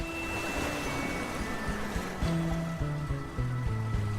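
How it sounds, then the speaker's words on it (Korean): Sea waves washing over the rounded pebbles of Mongdol beach in Ulsan, a continuous close rushing wash, with gentle melodic background music stepping along on top. "몽돌과 파도가 만나 그 소리가 기분 좋게 들리는 이곳은"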